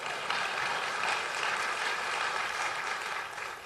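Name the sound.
audience applause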